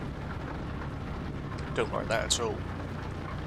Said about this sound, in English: It is heavily raining